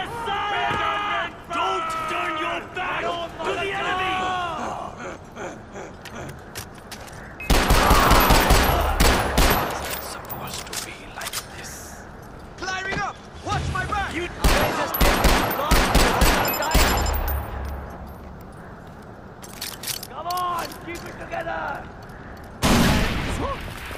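Bursts of automatic gunfire and shots in the Far Cry 4 video game, loud and rapid, coming in several volleys amid shouting voices and in-game dialogue.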